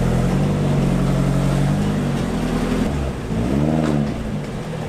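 A Nissan 240SX car engine idling, a steady low hum held close and loud, with a brief dip and a slight rise in pitch partway through; no voices.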